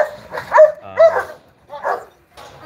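A dog barks and yips in a few short, close bursts about half a second apart, with brief quiet gaps between them, at a home where dogs are kept and a waiting list exists for them.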